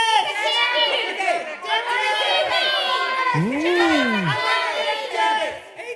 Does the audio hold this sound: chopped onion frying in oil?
no